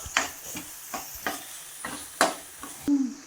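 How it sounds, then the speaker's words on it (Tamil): Tomatoes sauté in a pan for chicken dosa, with soft sizzling under a series of sharp scraping stirs at irregular intervals, fairly close, and no talking. "தக்காளி நல்லா மசிய வரைக்கும் வதக்கணும்"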